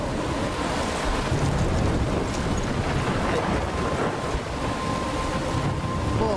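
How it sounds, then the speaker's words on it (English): Steady, roaring storm wind in the video game Life Is Strange, a continuous loud gusting wash with surf-like rumble that holds unbroken throughout, no voices heard. "I'm trapped in a storm."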